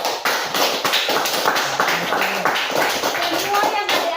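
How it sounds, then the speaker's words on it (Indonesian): Schoolchildren in a classroom applaud with steady, dense clapping that lasts several seconds, while a voice talks over it. "Berikan aplaus."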